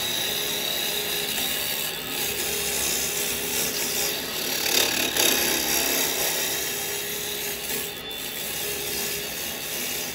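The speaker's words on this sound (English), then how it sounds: "So we've turned our lathe back on. Right, now I'm going to use the round chisel" Wood lathe spinning a bowl blank while a carbide round chisel cuts the wood, giving a steady continuous scraping whir with slight swells in intensity, no talk.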